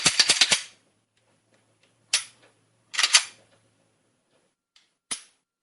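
Slide and action of a Glock 23 handgun being worked after cleaning and reassembly: a rapid rattling burst of metallic clicks, then several separate sharp clacks and snaps, close and crisp against near silence.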